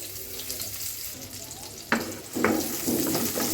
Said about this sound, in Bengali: পেঁয়াজটা ব্রাউন করে ভেজে নেব।